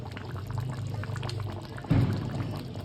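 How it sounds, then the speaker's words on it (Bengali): Hot water is poured into chicken cooking in a pot for a mixed rice dish. A short, steady close splashing pour swells suddenly near the end over a low background hum, with no talking. "সামান্য আমি একটু জল দেবো গরম জল বসিয়েছি"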